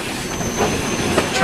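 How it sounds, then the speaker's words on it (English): A train running on a railway line in Albania, a loud continuous rumble of wheels and cars rolling along the track with rattling and faint squeal. "yeah, trains in Albania are something of a novelty."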